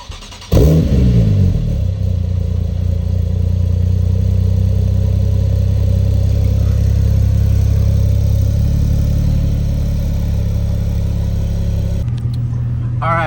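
A 1000 HP modified Porsche 911 Turbo engine starts and settles into a loud, deep, steady rumble heard from close by, holding constant for most of the stretch before a shift near the end.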